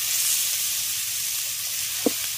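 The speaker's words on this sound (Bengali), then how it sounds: "লাল লাল ভাজা ভাজা হবে" Mushroom curry made with wild mushrooms gathered from a straw heap fries in a pan, giving a steady, close sizzle with a single brief utensil clink near the end.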